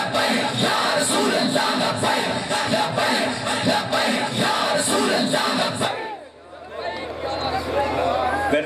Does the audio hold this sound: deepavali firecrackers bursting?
no